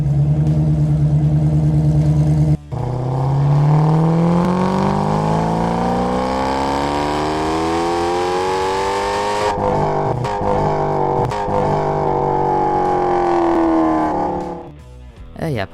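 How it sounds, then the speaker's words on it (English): A Dodge Challenger V8 engine in a video game fires up with a sharp catch, then revs in long sweeping rises and falls, loud and close, before cutting back and dropping off near the end. "let's just start the engine for a bit and see how that sounds"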